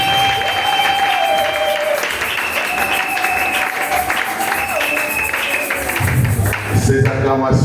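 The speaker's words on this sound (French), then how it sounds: "Est-ce que nous pouvons encore acclamer très fort?" A church congregation at a Sunday thanksgiving service applauds and cheers loudly, a dense sustained wash of clapping and crowd noise under a voice, ending in a brief burst at the close.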